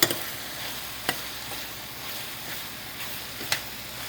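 A vegetable curry with Kashmiri chilli stirred in a pan on low heat, a soft steady sizzle with a couple of sharp spoon scrapes, close by with no talking.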